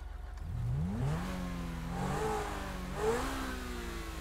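Lamborghini SVJ in GTA 5 revving through several rising engine sweeps, a smooth mid-pitched whine climbing and falling at moderate distance, fairly quiet with no speech.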